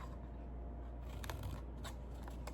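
Scissors cutting the corner off a paper card in a paper craft, a few quiet crisp snips close to the microphone over a low background hum.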